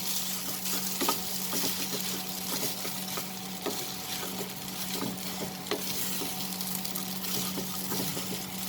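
Vegetable upma cooking in a pan over a high flame, a steady frying sizzle with a low hum beneath and repeated scraping stir strokes, close and even throughout, no talking.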